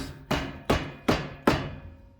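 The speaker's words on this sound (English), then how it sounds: "Rubber mallet. Hit that side." Four loud rubber mallet blows strike the engine case of a Honda TRX400EX quad being torn down, evenly spaced about 0.4 seconds apart, each a sharp thud with a short decaying ring, no talk.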